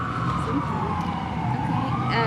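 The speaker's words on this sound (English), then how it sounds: "Bet that's a fire truck." A fire truck siren near a county volunteer fire department holds a loud, slowly falling wail that rises again, steady and close, with street rumble beneath and no talk.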